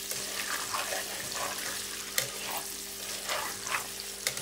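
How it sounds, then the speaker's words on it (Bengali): Eggs fry lightly in a pan with a steady, soft sizzle and crackle, occasional sharper pops cutting through, alongside a low electrical hum. "ডিমগুলো একটু লাল লাল করে ভেজে নেবো, হালকা,"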